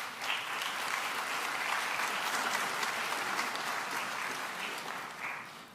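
Steady, dense audience applause fills a university graduation hall, sustained at an even level before tapering slightly at the close.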